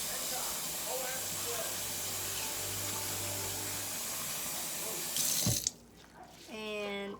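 Running tap water gushes steadily into a sink as an aloe vera stem is rinsed, a constant close hiss for about five seconds that cuts off abruptly, followed by a brief voice.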